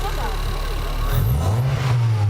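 A car engine on a driving trainer revs up as the gas pedal is pressed, a low rising drone swelling midway and holding steady to the end, with classroom murmur beneath.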